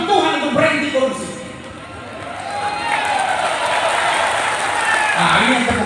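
Audience at a large Papua revival gathering clapping steadily, a dense sustained wash of applause and crowd noise mixed with voices and shouts throughout.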